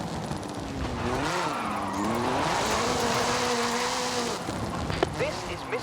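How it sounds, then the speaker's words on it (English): A Ford Focus RS RX Gymkhana 10 car with a 2-litre turbocharged front-mounted engine and all-wheel drive, driven in Forza Horizon 5, its engine revving and rising and falling in pitch, loud and continuous, with tyre noise near the end. "This is Mr. Kenneth Block's Hooligan Gymkhana 10 Ford Focus RS RX"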